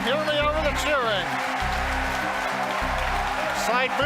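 Spectators cheer and clap steadily as the Falcon Heavy side boosters separate. The crowd noise stays loud and continuous, with a low rhythmic rumble beneath and scattered shouts rising above it.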